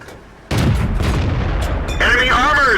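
A World of Tanks tank cannon fires and hits an enemy SU, a sudden loud boom that rolls on into a rumbling tail, with a metallic ringing impact layered in near the end.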